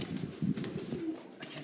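A flying pigeon coos close by, with low, throaty rolling calls over about two seconds against faint background noise.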